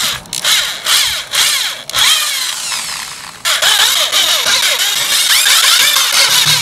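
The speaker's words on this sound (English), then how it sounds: "I'm just going to drill this out." A loud power drill with a 5/32 bit whines in repeated bursts, its pitch rising and falling as it bites, with short pauses between runs and no talking.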